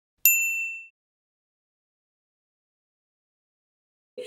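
A single bright notification-bell ding rings out clearly against silence, decaying over about half a second, followed by a faint brief sound at the very end.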